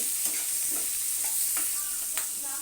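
Kochu greens with salt and turmeric stirred and lightly fried in a pan, a constant soft sizzle broken by occasional spatula scrapes, close and unaccompanied by talk.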